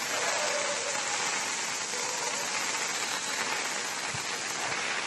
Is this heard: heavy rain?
yes